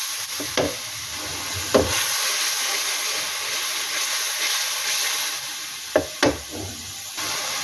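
Chopped tomatoes stir-fried in a pan for potato masala, a constant loud sizzle with a few sharp scrapes and knocks of the spoon against the pan.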